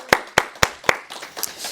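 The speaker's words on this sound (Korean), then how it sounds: "우리 하나님 앞에 우리 감사의 박수 올려드리겠습니다." A few sharp, spaced hand claps from a church congregation during a Sunday sermon, four distinct claps followed by fainter scattered ones, fairly close.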